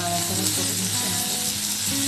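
Shredded cabbage fries and sizzles in a pan for vegetable pasta, a steady close hiss with faint stirring and no voices.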